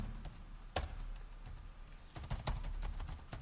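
Quick bursts of computer keyboard keystrokes as form data is entered, clustered clicky taps with short pauses between them, close and fairly quiet.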